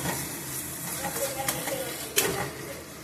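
Fish dropped into a hot pan of spiced potato, ginger and garlic paste, giving a steady close sizzle with a few sharp crackles, under someone talking.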